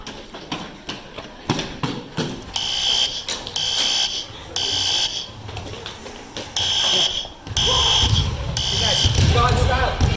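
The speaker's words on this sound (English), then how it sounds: "Fire alarm!" A loud fire alarm blares in repeated pulsing bursts over clattering noise and voices in the background.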